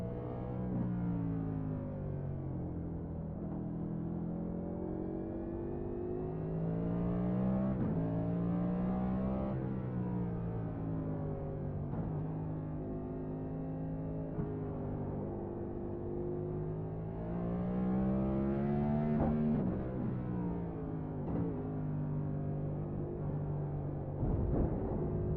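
NASCAR race car on a hot lap around the track, a loud sustained engine roar that rises and falls in pitch as it revs through turns, heard alone and fairly close throughout.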